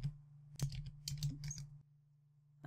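A computer keyboard clatters as a console command is typed, with a quick burst of close, crisp key taps that stops, then a low hum during a short pause before one more tap.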